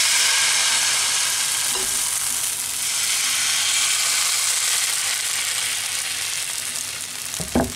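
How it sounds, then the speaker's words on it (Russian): Egg and flour batter sizzles in a pan as a thin pancake fries, a steady close crackle and hiss running throughout, with a brief clunk near the end. "Жарим как тонкие блины."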